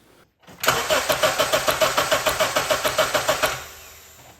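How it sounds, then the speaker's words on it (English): A 2009 Honda Civic engine cranking over without starting, a steady rapid chug of about fifteen even strokes for roughly three seconds before the starter stops, close and loud with no talk. "So let me go crank the engine."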